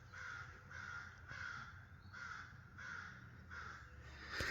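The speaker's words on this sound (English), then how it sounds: "We got the crows going crazy." Crows caw loudly in a steady series of harsh calls at a regular rhythm outdoors on a wet morning, with no talking over them.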